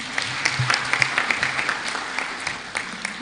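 Audience applause fills the hall at a national parliamentary symposium, a steady patter of many hands clapping at moderate volume, continuing evenly without voices over it.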